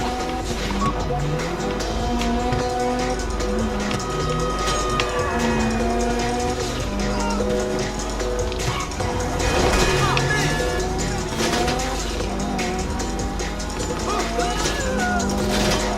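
A Kuruma car driving in the GTA V video game, its engine droning steadily with rising and falling pitch as it accelerates and shifts, occasional tire noise, continuous and prominent throughout, with a voice talking over it.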